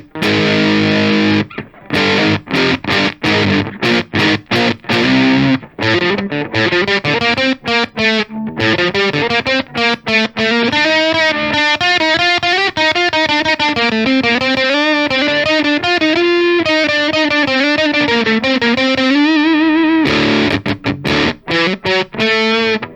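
Electric guitar played through a Boss Tone Studio Fuzz Face emulation with the drive maxed at 120, giving a loud, saturated fuzz tone. Choppy stabs come first, then sustained bending lead lines that run continuously before trailing off.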